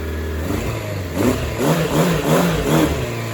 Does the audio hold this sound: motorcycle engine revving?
yes